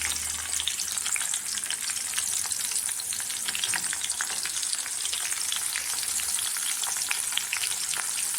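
Chopped onion fries in hot oil for a brinjal gojju, giving a steady, crackling sizzle throughout, close and unbroken, with no talking.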